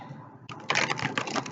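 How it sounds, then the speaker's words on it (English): A deck of cards shuffled by hand during a tarot reading, a quick close riffle of crisp fluttering clicks lasting about a second, fairly quiet. "I am shuffling cards right here."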